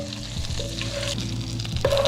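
Onions fry in melted butter for a beef stew, giving a steady close sizzle with stirring scrapes and a soft tonal hum running underneath.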